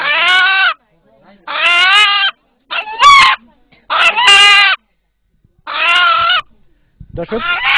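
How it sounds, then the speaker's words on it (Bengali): An eight-month-old rooster crows loud and close, several long drawn-out calls separated by short silences, with another bird's cries overlapping near the middle. "এখানে উপস্থিত যারা এই মোরগের ডাক শুনলেন"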